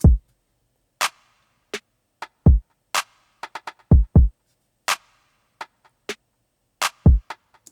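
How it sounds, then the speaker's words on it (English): Sparse drum pattern programmed in Studio One 4: deep kick thumps and sharp, crisp clicking rim shots, spaced unevenly with short silent gaps between hits. "to fill that in, I added a rim shot"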